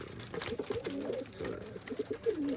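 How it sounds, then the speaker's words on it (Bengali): Two pigeons coo nearby in a string of soft, rolling, bubbling calls that come in short bursts with brief gaps, the sound fairly quiet and close. "দুটো কবুতরের হাঁটা চলা ঠোঁট মানে অন্যরকম স্টাইলে"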